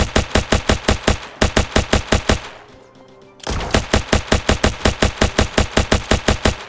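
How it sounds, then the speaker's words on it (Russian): Rapid automatic gunfire aimed at the player in the war game Ancient Warfare 3 rattles out in loud, evenly spaced bursts, breaks off briefly near the middle, then resumes at the same quick steady rhythm, with no talking. "по мне, друзья, стреляют"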